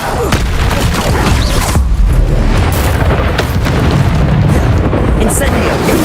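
An Expelliarmus spell cast amid Hogwarts Legacy combat, a dense run of booming, bursting magical impacts and crackles that stays loud and constant, with a voice speaking over it.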